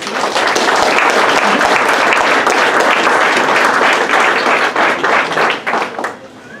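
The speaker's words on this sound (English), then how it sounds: "let's give them all a big round of applause" Sustained applause from a crowd at a fall sports awards banquet, loud and dense throughout before tapering unevenly near the end.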